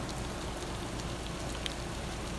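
Gentle rain shower, a soft constant hiss of drops pattering on the ground with no other sounds.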